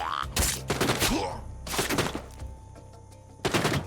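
Gunfire rings out in the VR video game The Walking Dead: Saints & Sinners, a few sharp, loud bursts separated by gaps, with thuds and faint game noise in between.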